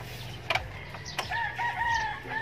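A rooster crows once in the distance, a drawn-out call over faint background clucking and rustle.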